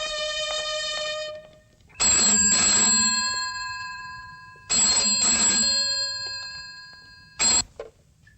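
A telephone bell rings in loud, sustained bursts with short pauses between them, clear and close with no talk over it.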